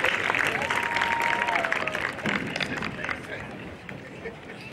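Applause from a commencement audience honoring alumni, a thick steady clapping from a large crowd that gradually thins toward the end, with a faint whistle and crowd murmur mixed in.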